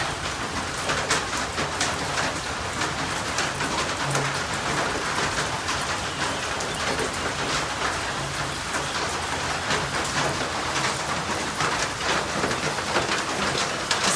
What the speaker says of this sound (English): rain on the old tin roof, and it's been going for a few hours now